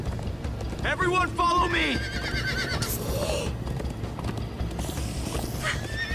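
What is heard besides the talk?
horses galloping in a video game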